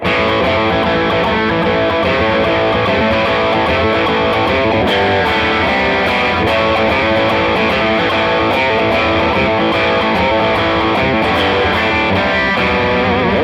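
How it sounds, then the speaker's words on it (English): An electric guitar runs through a 70s-style distortion pedal at a moderate, not heavy gain setting, playing steady chords and riffs that sound continuous and loud, close-up, with no voices. "we'll go with a sort of 70s distortion sound, just to see what it can do"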